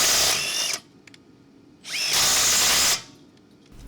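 A Makita 18V LXT brushless impact driver (XDT14T) removes lug nuts from a truck in two loud, close bursts of rapid hammering whir, the second longer, with a rising then falling motor pitch and a short quiet gap between them.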